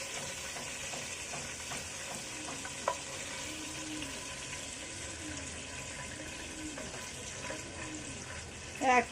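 Chicken pieces frying in a pan for an Eid-style chicken roast, a steady continuous sizzle with faint stirring clinks and a brief louder clatter at the end, no talking.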